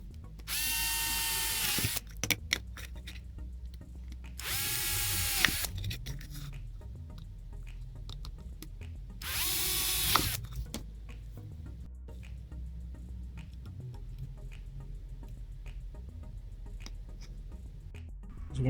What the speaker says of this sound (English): Obviously pilot holes and the appropriate drill piece